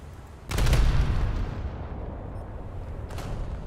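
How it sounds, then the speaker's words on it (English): A single heavy naval gun salvo fires at the cruiser Nuremberg in a naval warfare game, a loud deep boom that rolls off into a long rumbling tail over steady sea and engine ambience. "Just going to fire one shot at this Nuremberg"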